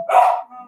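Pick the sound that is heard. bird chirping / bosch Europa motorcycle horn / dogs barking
dogs barking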